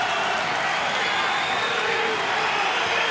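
A college wrestling arena crowd at a Big Ten 125-pound bout, Penn State against Rutgers, roars in a steady dense wash of cheering and clapping that stays loud and unbroken throughout.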